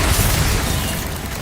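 A Bombarda blasting spell goes off in Hogwarts Legacy as a loud, booming explosion, with a heavy low rumble that fills the moment and fades slightly over a second and a half.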